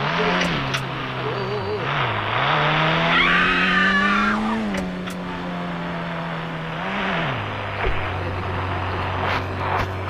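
Nissan GTR in the game Indian Bike Driving 3D, engine droning and shifting pitch as the car drives, with screeching tire skids partway through, steady and fairly loud.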